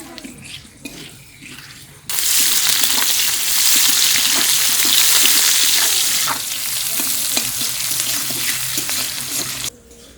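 Cumin, dried red chilies and bay leaves hit hot oil left over from frying potatoes, bursting into a loud, steady sizzle that holds for several seconds and then cuts off abruptly; no voices.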